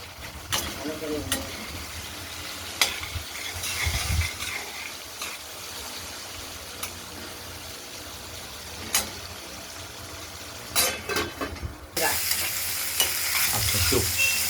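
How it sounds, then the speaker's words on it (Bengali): Potatoes and green bananas seasoned with salt and turmeric fry in a pan, a soft continuous sizzle broken by scraping stirs and clatters, with people talking intermittently and a louder hiss near the end. "আলু এবং কাঁচকলাগুলো আমরা ভাজা করে নেবো"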